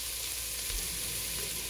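Vegetables sweating in a pot for vegetable soup, with a soft, even hiss of gentle sizzling throughout a short moment, no talk.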